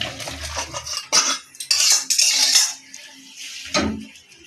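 A utensil scrapes and clatters against a pan as shrimp are stirred with garam masala powder, in several loud, close bursts of metallic scraping with short pauses between them.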